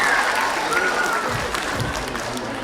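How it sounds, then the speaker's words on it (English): A grand-finale audience applauds a young finalist from Bangalore, giving a dense, steady round of clapping from a crowd throughout, with a voice briefly audible over it. "Can we hear a big round of applause for the young lady from Bangalore?"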